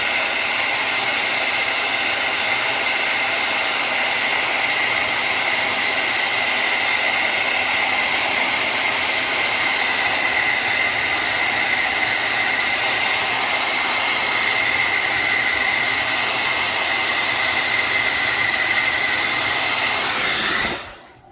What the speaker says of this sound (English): Now I'm gonna heat this again just a little bit. I'm gonna do it off camera here. You're gonna hear it, the dryer.